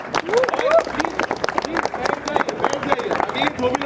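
A college festival crowd cheers and claps as a nukkad natak street play troupe comes on, with voices and shouts mixed into the scattered, lively applause that stays busy and fairly loud throughout.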